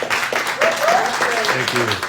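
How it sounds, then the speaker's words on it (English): Brief applause from a gallery audience at an artist talk for an exhibition, a short burst of clapping mixed with voices and murmuring close by. "can we give a round of applause for Mr. Jay Durrah, please?"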